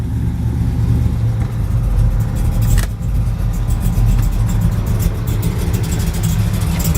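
A 1969 Chevrolet Greenbriar wagon with a 427 cubic inch engine, built as a Yenko tribute, running close by with a loud, lumpy, rumbling idle and light revs, with no talking.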